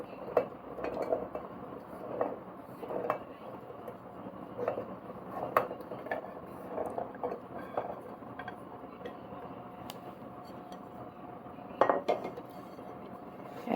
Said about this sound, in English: I'll transfer this chickpeas to blender jar.